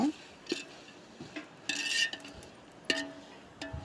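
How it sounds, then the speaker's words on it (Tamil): Chopped tomatoes for chicken biryani sautéed in a pan give a few quiet scrapes and clinks of a spoon against metal, spaced apart, over a faint background. "நம்ம கட் பண்ணி வச்சுருக்க தக்காளியையும் சேர்த்து வதக்கிக்கலாங்க"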